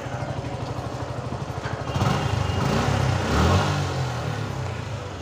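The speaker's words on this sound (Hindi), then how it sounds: "यहाँ पे एग्जॉस्ट साउंड सुन रही हो" Motorbike exhaust putters at a steady, close idle, then swells into a louder revving roar about midway through, with no voices over it.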